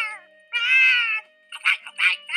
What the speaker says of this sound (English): I can't hide any more cats, Mr. Kitty.